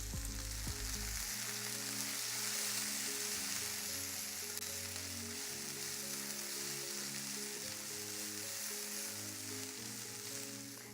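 Chopped onions sizzle and fry in a pan, a steady close crackling hiss that runs on evenly without talk.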